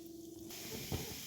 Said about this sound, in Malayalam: വെളിച്ചെണ്ണ ഒഴിച്ചിട്ട് കുറച്ച് കടുക് ഇട്ടിട്ടുണ്ട്.